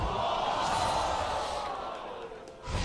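A large arena crowd at a 2015 League of Legends championship esports match roars in a loud, sustained wash of cheering that eases slightly before surging again at the end.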